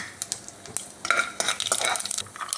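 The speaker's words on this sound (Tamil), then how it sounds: "எண்ணெய் ஊற்றிருக்கிறேன் காஞ்சிருச்சு கடுகு உளுந்தம் பருப்பு போடுறேன்" Mustard seeds and urad dal crackling and spitting in hot oil, a crisp, uneven patter of close pops mixed with light clinks of a utensil against a pan.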